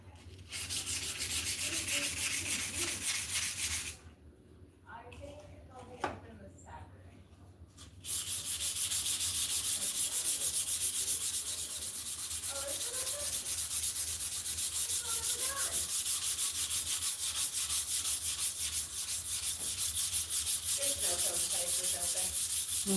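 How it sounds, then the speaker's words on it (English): Light hand sanding of an etched steel wakizashi blade, a steady close rubbing hiss that runs almost throughout, pausing briefly near the middle before resuming at full strength, with no one talking. "I'm going to lightly sand this."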